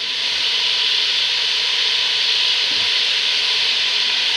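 Tomato puree from two blended tomatoes poured into a hot pan of frying mutton for aloo gosht curry, giving a steady loud sizzling hiss that fills the whole moment without pause, with no talking.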